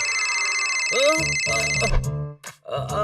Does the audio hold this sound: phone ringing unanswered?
yes